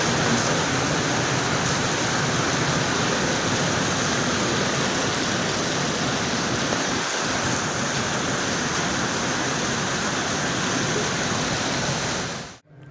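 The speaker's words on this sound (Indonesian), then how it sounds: "Hujannya deras banget." Heavy rain pours steadily and loudly as a dense, unbroken roar that lasts about twelve seconds before cutting off abruptly at the end; no voices.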